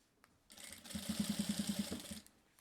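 A sewing machine runs a safety seam around a passport wallet, giving a quick, even run of about a dozen mechanical stitch clicks over a soft motor whir, close and fairly quiet.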